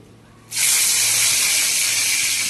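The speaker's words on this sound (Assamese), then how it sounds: "কেৰাহীত তেল গৰম হৈছে, দুটামান শুকান জলকীয়া দি দিওঁ।" Dried red chillies dropped into hot oil in a wok, a sudden loud, steady sizzling hiss that starts abruptly and holds evenly for about two seconds before cutting off, close and alone.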